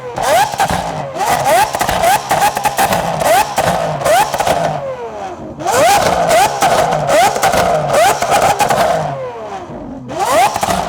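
A straight-piped V12 Lamborghini SVJ supercar being revved hard, loud and close, with repeated sharp throttle blips rising and falling in pitch and brief crackles between the surges.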